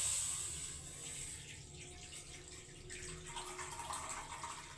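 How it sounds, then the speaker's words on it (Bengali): Water is poured into a wok while mango murabba is cooked, making a steady running splash that holds for several seconds, close and moderately loud, with no talking. "এই দেখো পরিমাণ দেখে আমি জল দিয়ে দিচ্ছি"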